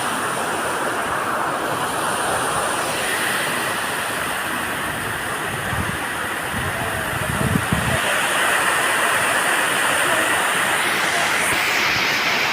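Overflowing water rushes loudly and continuously at Ghanteswari temple in Sambalpur, a dense roar with some low rumbling bursts midway and faint background voices.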